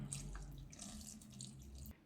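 Water pours from a tap into a bowl of flour for bread dough, a soft, steady trickle running close by for about two seconds with no talking.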